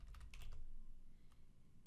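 Soft clicks of a computer keyboard as a short abbreviation is typed into report software, a few quick faint keystrokes with a pause before a final tap.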